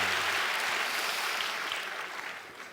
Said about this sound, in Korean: 우리 다시 한번 감사의 박수 드리겠습니다.